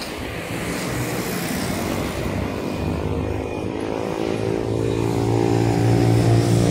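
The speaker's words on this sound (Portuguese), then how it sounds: "Vem mais um veículo saindo" A vehicle drives out of a gate beside the BR262 highway in Cariacica, a steady engine drone that slowly builds in loudness as it approaches, with no talking.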